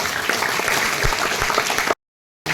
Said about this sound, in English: a big round of applause for all the parents